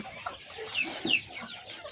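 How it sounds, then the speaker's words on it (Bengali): Young chickens clucking close by at morning feeding, a few soft, quick clucks and chirps rising and falling over a short stretch with no one speaking. "আমার বাচ্চা মুরগিগুলো একটু দেখো, এগুলো মার্শাল্লাহ এখন আস্তে আস্তে বড় হচ্ছে"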